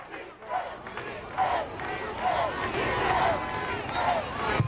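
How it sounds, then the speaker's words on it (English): A high school football crowd in the stands chanting for defense, rhythmic massed voices rising and falling in repeated swells, fairly loud and continuous with general crowd noise behind. "the Bishop Arc crowd calling for defense"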